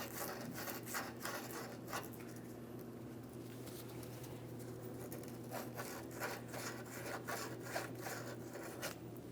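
Sandpaper scrubbing rust on the liftgate of a 2007-2014 Ford Edge: a steady, close, gritty rasp in repeated back-and-forth strokes, briefly easing off midway before resuming.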